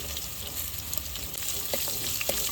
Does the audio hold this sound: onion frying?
yes